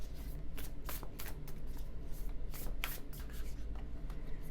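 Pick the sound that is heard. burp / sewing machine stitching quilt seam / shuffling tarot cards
shuffling tarot cards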